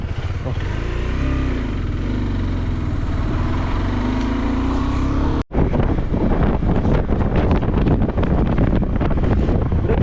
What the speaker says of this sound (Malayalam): കാറ്റ് കൂടുതലാണല്ലേ